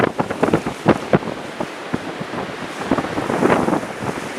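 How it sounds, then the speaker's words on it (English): Strong wind buffeting the microphone outdoors during a heavy 2013 snow blizzard, a loud, continuous rough roar with gusty bursts throughout. "and the wind is blowing so hard."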